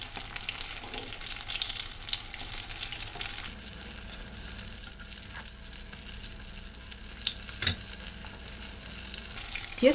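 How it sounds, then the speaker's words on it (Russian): Spoonfuls of fluffy apple kefir pancake batter frying in hot oil in a pan, giving a steady, close sizzle and crackle that runs unbroken throughout, with a few small pops and spatters. "Жарим до аппетитного зарумянивания с обеих сторон."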